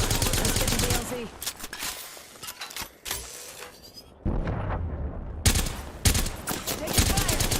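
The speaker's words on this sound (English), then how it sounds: "Taking fire." Video game gunfire crackles in rapid automatic bursts and scattered single shots, loud and close, with a brief lull midway before the shooting resumes.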